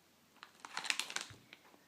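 Soft plastic ration pouch crinkling in a cluster of crisp crackles as it is pushed into a bag, close and fairly quiet, with no talk.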